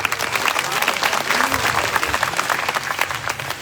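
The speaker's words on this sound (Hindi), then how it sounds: "ताली बजाओ।" An audience at an evening religious discourse in Jagannath Puri applauds loudly for the seated monks and renunciants, dense sustained clapping from a large crowd across the whole span.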